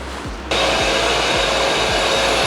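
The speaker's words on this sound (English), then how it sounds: "I'll go and turn the vacuum on and we'll make a start" A workshop vacuum extraction unit switches on and runs at a loud, steady roar, used for block sanding polyester filler on a 1971 Camaro, with rhythmic low rubbing strokes beneath.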